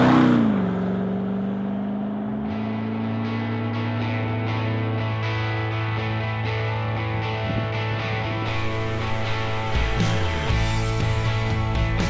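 Toyota Land Cruiser LC200 driving, its engine droning steadily with shifting tone as it pulls away and cruises, with no talking.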